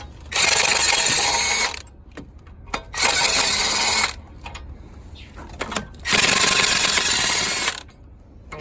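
A 1/2-inch pneumatic impact gun removes cylinder head nuts on a Chevy 3.1–3.5 liter V6, firing in three loud, close, buzzing bursts of about a second each, separated by quiet gaps with small clicks.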